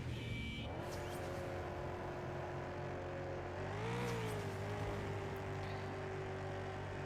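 A game car, the PA: Piledriver, drives along with a steady droning engine hum that rises briefly in pitch midway, then settles again, with no talk over it.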